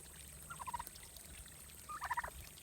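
Ducks at a muddy backyard pond under blackberry bushes give two short bursts of quacking, faint and somewhat distant over a low outdoor hum, with quiet gaps between.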